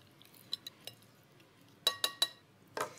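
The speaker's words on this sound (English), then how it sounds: "Then just toss them all around with the tongs" Metal tongs tossing chicken drumettes coated in spice and buttermilk in a bowl: soft, scattered clinks, then three sharp, closely spaced taps and a final rattle, all fairly faint and with no talk.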